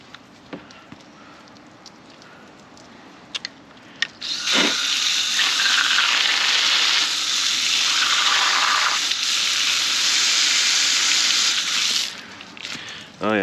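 Water gushes steadily from a hose or tap as a drain part from a 2022 Kawasaki Ultra 310 LX supercharged jet ski is rinsed out, loud and continuous for about eight seconds, starting after a few quiet knocks and easing off near the end.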